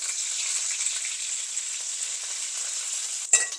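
Steady hissing sizzle of spices, dried red chillies and curry leaves, frying in hot oil for masala rasam, with a sharper crackle near the end.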